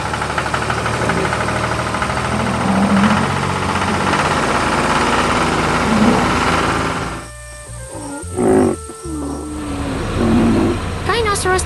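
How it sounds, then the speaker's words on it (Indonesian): A farm tractor pulling a trailer loaded with fresh crops rumbles and knocks steadily, with growling, animal-like cries and other voices mixed over it, then briefly thins out before the engine noise returns. "Traktor dan trailer sedang bekerja keras mengangkut tanaman segar yang akan dijual"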